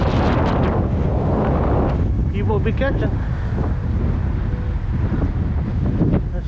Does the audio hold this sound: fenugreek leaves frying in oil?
no